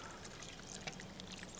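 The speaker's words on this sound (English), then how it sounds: "And then we're going to pour about 3 cups of water" Roughly three cups of water poured over rinsed soup beans in a camp Dutch oven, a soft, faint, steady splashing pour with no talk over it.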